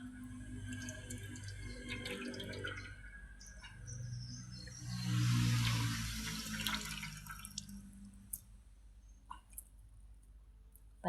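Water drains and drips from grated cassava (kamoting kahoy) squeezed by hand, swelling into a brief splashing gush midway before trailing off into scattered drips, with faint birdsong in the rural background.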